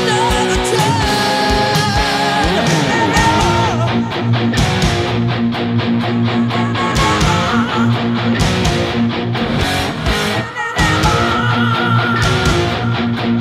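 Electric guitar playing the third chorus and short interlude of a song, leading into the guitar solo, a loud, continuous full-band rock passage with dense distorted chords and riffs throughout, briefly dipping near the end.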